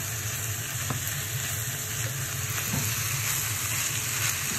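Yakisoba noodles frying in a pan, giving a continuous, even sizzle at moderate level with a few faint stirring scrapes and no talking.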